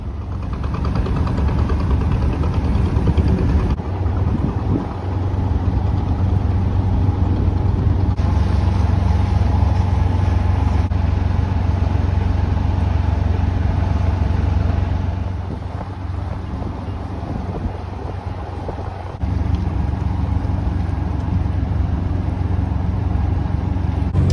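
Motorboat engine running at full throttle while drag racing another boat in open North Sea waters, a loud steady low roar with wind buffeting the microphone, dipping briefly and surging again.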